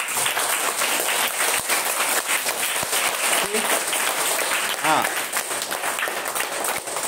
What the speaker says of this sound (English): Can you please clap?